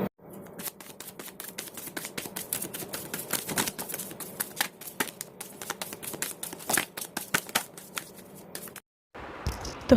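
Tarot cards being shuffled by hand in a rapid run of crisp riffling flicks and slaps, close and fairly loud, continuing for several seconds before a brief pause and a final rustle.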